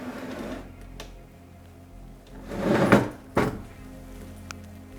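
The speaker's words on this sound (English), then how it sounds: "These drawers haven't been open in years." Old drawers in an abandoned house in France are pulled open: a low scraping slide that builds to a loud wooden grind and thunk, then a second sharp knock, with quiet room tone between.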